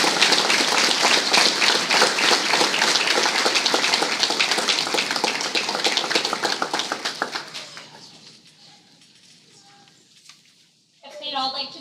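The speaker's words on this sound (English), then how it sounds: "we can give them a nice round of applause" A school board meeting room breaks into a long round of applause for a retiring staff member, dense crowd clapping that holds strong and then thins out and fades, before voices rise again at the end.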